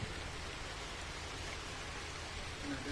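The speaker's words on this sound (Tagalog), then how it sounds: "Ulan na po" Steady, dense rain falls outdoors, a loud, even hiss that holds without pause throughout.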